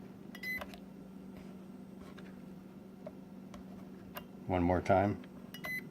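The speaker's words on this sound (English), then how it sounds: "Here's the normal beep, and here's what I did to it." Beeping from a small Syma X11C starter drone, a few faint, sparse chirps over a steady background hum, then a louder burst of repeated beeps near the end, with a brief spoken phrase.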